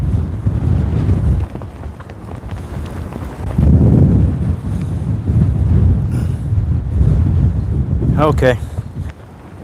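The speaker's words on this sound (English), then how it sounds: "Wind has just kicked up massively." Strong wind roars and buffets the microphone outdoors during roadside coin hunting, a loud, rough rush that surges and eases, with a brief spoken word near the end.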